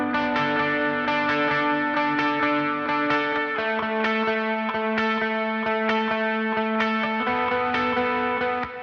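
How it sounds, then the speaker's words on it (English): Sustained electric guitar chords through an amp sim, ringing with a wide, lush plate reverb tail, steady and loud, shifting chords every few seconds with no voices. "we've got some guitar verb going on too"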